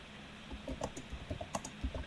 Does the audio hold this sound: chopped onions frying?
no